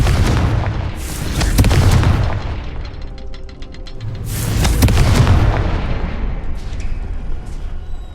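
Two heavy Confringo spell explosions in Hogwarts Legacy, each a deep booming blast that swells and rumbles before fading, several seconds apart and very loud.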